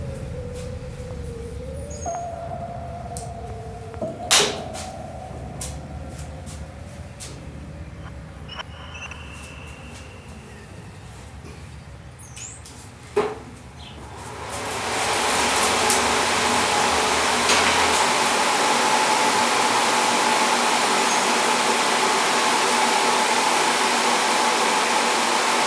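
A repurposed furnace blower in a shop is switched on partway through, quiet clicks and faint hum giving way to a loud steady rushing whoosh of air that holds to the end, with no talking.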